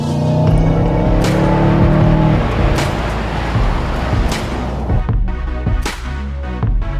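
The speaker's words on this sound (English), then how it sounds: "you can just plant your foot in any gear and it just squats and goes" A Mercedes-Benz CLA accelerates hard through the gears, its engine rising loudly in pitch, with several quick upshift breaks punctuating the sustained roar and no voices.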